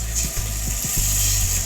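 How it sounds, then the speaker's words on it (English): Broth poured into a hot soup pot of cooking vegetables, giving a steady sizzling hiss with a few soft knocks and stirring sounds underneath, close and continuous. "Now we're gonna add some broth."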